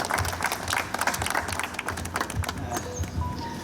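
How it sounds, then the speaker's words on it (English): An audience at a World Cancer Day celebration applauds, a close, lively burst of many hands clapping unevenly for a few seconds, with faint crowd murmur beneath. "So big round of applause to him."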